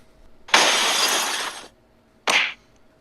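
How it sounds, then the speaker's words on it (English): In Batman: Arkham Asylum, Batman crashes through the glass roof of an observation deck. A loud, sustained shattering of glass lasts about a second, followed by a shorter, sharp second burst of breaking glass. "Batman crashes through the glass roof of the observation deck, taking down Harley"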